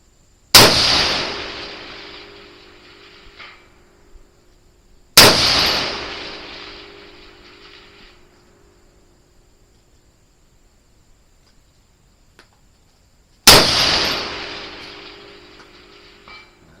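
Three loud, sharp rifle shots from a 6mm ARC firing 108 grain ELD Match rounds, spaced several seconds apart, each ringing out with a long fading echo over an open range.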